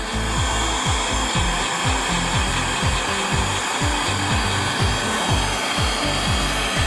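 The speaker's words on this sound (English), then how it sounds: "I'm hitting it with a heat gun this time" A heat gun blows steadily onto freshly applied epoxy paint on a motorcycle muffler quiet core, giving a loud, constant airy roar with a rhythmic low whir beneath it and no talking.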